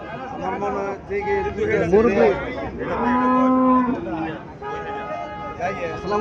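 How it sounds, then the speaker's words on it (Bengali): A local (deshi) dairy cow moos loudly several times, long drawn-out lowing calls close by, with people talking in the background at a village cattle market. "এখানে একটা গাভী দেখা যাচ্ছে দেশি গাভী"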